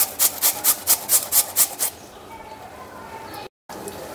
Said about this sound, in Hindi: ये देखिए, इस तरह से हम आलू को घिस के इसमें डालना है।